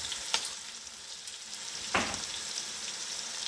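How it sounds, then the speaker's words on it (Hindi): Ginger garlic paste frying with onions in a pan, giving a steady close sizzle with a couple of brief stirring scrapes and no talking. "तो अब इसमें हम 1 टेबल स्पून अदरक लहसुन का पेस्ट जो है ये ऐड कर लेंगे और इसको भी हम 3 मिनट भूनेंगे।"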